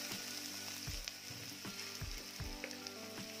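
Chopped onion sautéing in a pan, a dense steady sizzle close by with a few soft stirring thumps and scrapes spaced through it, no voices.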